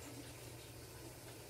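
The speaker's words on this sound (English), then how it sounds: "let me wash this shit off my hands" Tap water runs in a steady, quiet broadband hiss as hands are rinsed under the faucet, with no talk.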